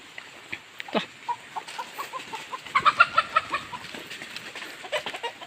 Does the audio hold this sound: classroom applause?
no